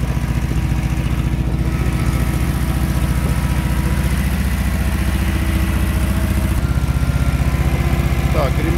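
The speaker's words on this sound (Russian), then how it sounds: "С новым трамблером совсем по-другому работает." An old Zaporozhets car engine idling with a newly fitted distributor chugs in a loud, steady, even mid-pitched rhythm close by, running continuously with only a slight change in tone near the end.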